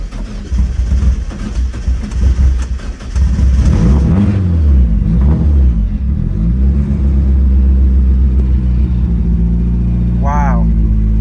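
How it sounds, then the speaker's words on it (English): A car's engine starts and settles into a steady, loud idle rumble after being fitted with new adjustable engine mounts, heard from inside the cabin with the door closed; a brief high chirp sounds near the end. "here is the first start with the new engine mounts"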